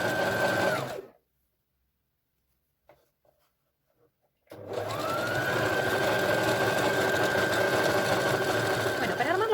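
Sewing machine stitching bralette fabric in two loud, steady bursts of motor hum separated by a pause of near silence of about three seconds.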